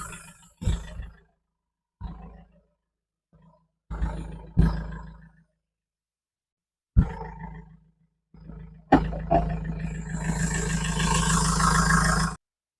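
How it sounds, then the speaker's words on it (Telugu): A 2017 Mahindra XUV500 W4 diesel engine starts after several scattered thumps and pauses, then idles steadily with an even, hissy rumble heard up close near the owner's home. "ఇంజిన్ అయితే రన్నింగ్లో ఉంది, ఎటువంటి నాయిస్ కూడా లేదు."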